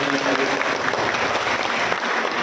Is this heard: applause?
yes